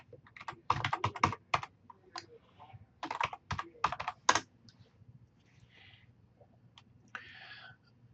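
Bursts of keystrokes on a computer keyboard as a username and password are typed, quick clustered clicks in two runs with short pauses, close and fairly quiet, a faint soft rustle following.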